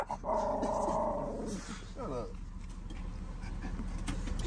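A dog gives a short, low rumbling growl near a car interior, brief and close, with people talking over and around it.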